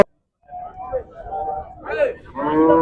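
A cow lows several times up close at a livestock market in Khanna, a loud drawn-out moo rising at the end, with faint voices in the background.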